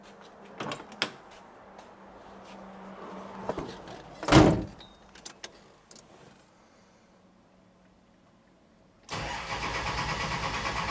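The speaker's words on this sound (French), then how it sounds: "on va démarrer la voiture, la faire chauffer et on part" A few clunks and a door thud come first, then after a quiet stretch a dragster's engine starts up and settles into a steady idle, at a European drag racing event in Clastres.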